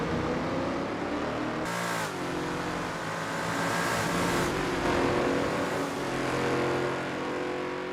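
Lola T70 MkII Spyder race car in a racing video game at Kyalami '67: a loud, continuous engine roar with rising and falling revs and gear shifts, sustained throughout with no talk.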